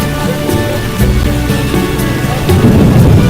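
Steady rain pours down in the game The Witcher with low thunderous rumbles rolling underneath, growing slightly heavier toward the end, alongside faint tonal background music.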